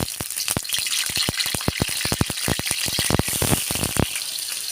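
Potatoes frying in hot oil in a wok for a chicken curry, a loud close sizzle broken by a rapid run of sharp crackles and spatters, with no talking.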